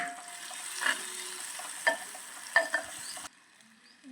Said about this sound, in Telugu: టమాటా ముక్కలు వేసుకుంటాం.